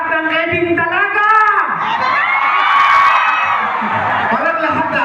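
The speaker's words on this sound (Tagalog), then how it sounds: "Pwede bang sumigaw ang lahat ng Kevin talaga?" A crowd at a Christmas party shouts together in response, a loud, continuous mass of overlapping voices and cheers swelling and holding for several seconds, close and dense.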